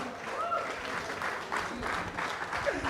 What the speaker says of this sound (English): can we have a huge round of applause for the winner of Bengaluru Open 2025?